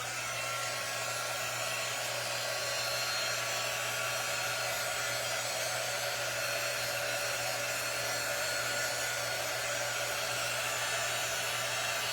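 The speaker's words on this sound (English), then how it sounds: "I'm gonna hit it with our quick dry tool" Hair dryer used as a quick dry tool on paint on a flag, a loud, steady whirring blow that runs unbroken and close the whole time.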